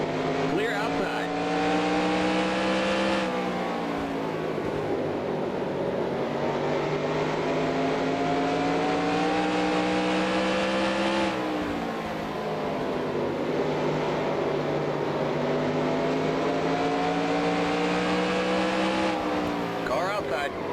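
Race car engines drone steadily at high revs in NASCAR Racing 2003 during the 1986 Valleydale 500, a continuous loud roar with pitch dipping at gear shifts, under a spotter's calls.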